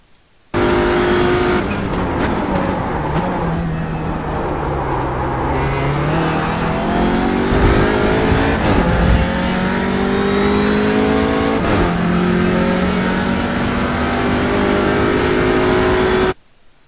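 An Audi RS3 LMS TCR race car in the iRacing game holds full power at Spa, its engine a loud, continuous, high-pitched wail rising through the gears with brief dips at shifts, heard alone without talk.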